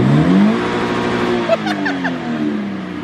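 A car engine revs loudly, its pitch climbing and then holding steady, with some faint voices in the background.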